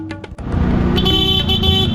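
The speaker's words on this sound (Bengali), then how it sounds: "আমি হর্ন দিচ্ছি" A car horn blares in a sustained honk close by over a running engine, starting after a short rumble.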